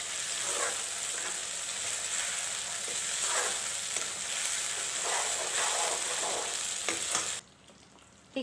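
Ground masala paste frying in a pan for egg dum curry, a dense continuous sizzle with faint stirring scrapes, close and steady, cutting off sharply near the end.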